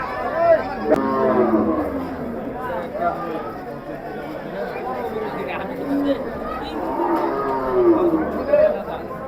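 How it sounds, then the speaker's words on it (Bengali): Cattle at the busy Mawra cattle market in Burichang, Comilla, give repeated drawn-out moos, some near and some farther off, over constant crowd chatter and people talking. "চারিদিকে শুধু গরু আর গরু বিশাল গরু বাজার মাওরা গরু বাজার"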